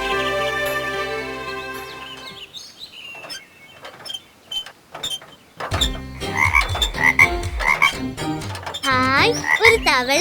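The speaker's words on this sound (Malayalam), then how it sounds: "ഹായ്, ഒരു തവള." A cartoon frog in a Malayalam children's animation croaks in several close, clear, warbling bursts that grow livelier toward the end, following a stretch of soft music.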